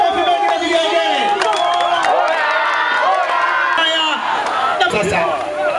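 A crowd at a CCM public rally in Shinyanga cheers and ululates loudly and continuously, high wavering trills rising over dense shouting and clapping, with voices mixed through the din.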